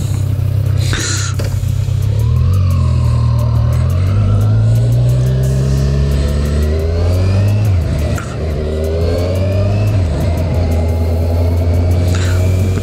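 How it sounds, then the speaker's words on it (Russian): Kawasaki motorcycle engine running near a fuel station, loud and close, climbing and falling through several revs over a steady idle, with no talk. "Кавасаки работает."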